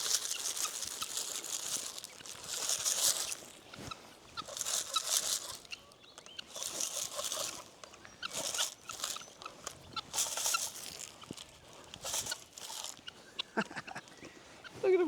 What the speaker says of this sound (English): Just gonna go and feed the guinea fowl.